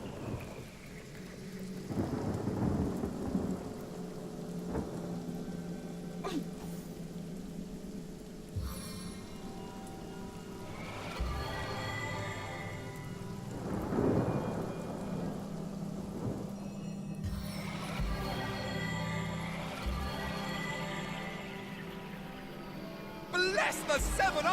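Rain and rolling thunder in the video game Divinity: Original Sin, a steady wash of rainfall with several low thunder rumbles, while in-game characters speak over it now and then.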